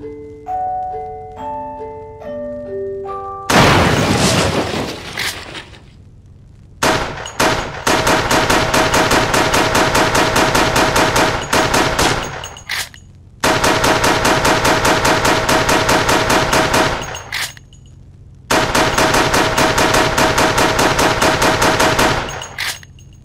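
Rapid automatic gunfire from Resident Evil: The Darkside Chronicles, loud and close, comes in three long sustained bursts separated by short pauses, after an opening run of musical tones and a sharp blast.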